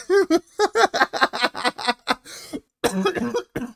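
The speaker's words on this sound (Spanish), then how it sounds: "me hicieron reír tan fuerte que hasta me hicieron toser" Rapid bursts of voiced sound break into a rough, harsh cough near the end, close to the mic and fairly loud.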